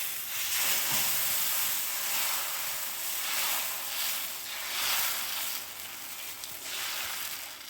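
Spicy jackfruit dosa batter spread on a hot pan gives off a continuous hissing sizzle, softly rising and falling in waves, with no one speaking.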